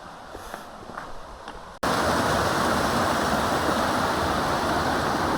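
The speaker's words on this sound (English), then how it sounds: "Now we get to cross the Rocky Branch River." Rocky Branch River in New Hampshire's White Mountains rushing at a trail crossing: quieter ambience with faint footsteps first, then a sudden loud, steady broadband roar of flowing water close by, continuing without voices.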